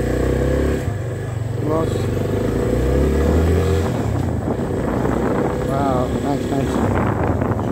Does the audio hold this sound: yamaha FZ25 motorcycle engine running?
yes